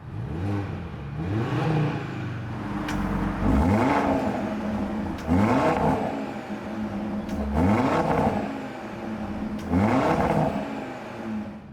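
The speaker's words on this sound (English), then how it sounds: "And now, the sound of the 5-cylinder." A 2020 Audi RSQ3 Sportback five-cylinder engine revs up repeatedly, rising to a roar about every two to three seconds and then settling back, close and loud.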